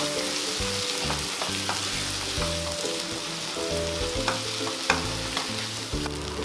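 Onion and tomato sautéing in a pan for a shredded chicken fry give a steady close sizzle with stirring scrapes, running alone over background music.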